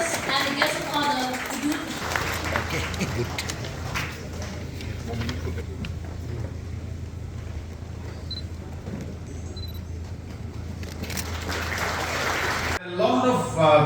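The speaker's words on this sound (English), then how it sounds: "let us all give a round of applause for the chief guest and the guest of honor" An audience at an official gathering bursts into sustained applause, a dense wash of clapping that carries on for over ten seconds, with voices mixed in underneath.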